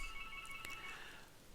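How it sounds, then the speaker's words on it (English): A phone ringtone sounds faintly in the background, a steady electronic tone that carries on without pause and without talk. "Sorry for the phone ringing in the background."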